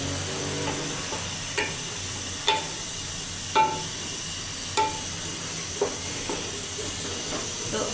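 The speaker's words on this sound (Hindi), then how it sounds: "इसके बाद हम इसमें डालते हैं प्याज, जो कि हम धो के रखा है। अब हम इसको भूनना शुरू करते हैं।" Washed onions frying in a pan for Punjabi chicken curry, a steady close sizzle and hiss throughout, punctuated by sharp scraping stirs or clanks of a spoon every second or so, with no voices.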